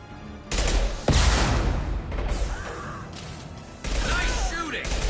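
Heavy gunfire in the Mass Effect 2 video game, dense bursts and blasts filling the whole clip with a brief pause near the end, loud and close, while voices talk in combat chatter over it.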